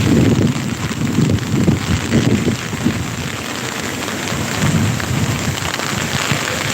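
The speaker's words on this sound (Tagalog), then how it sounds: "humina po ang ulan" Rain falls steadily during a typhoon while low thunder rumbles in several swells, loud and close, with some wind buffeting the microphone.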